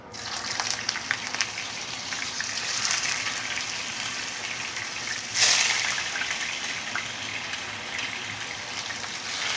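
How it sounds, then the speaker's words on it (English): Black pomfret fish frying in smoking-hot oil, a steady dense sizzle and crackle filling the whole stretch, with a brief louder spatter burst partway through. "We will fry the fish until fully cooked, so later we don't have to stir fry for too long."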